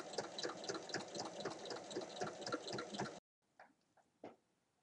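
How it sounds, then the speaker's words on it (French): A sewing machine topstitches 1 mm beside an opened seam with a steady rapid mechanical chatter for about three seconds, close by. It then stops, leaving a few faint clicks. "il faut faire une surpiqûre à 1 mm de chaque côté de la couture"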